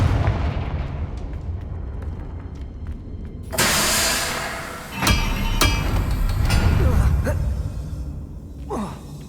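Confringo, a fire-blast spell in the Hogwarts Legacy video game, lands as a sudden loud burst with a whooshing roar, followed by further impacts and crackles over a constant game ambience.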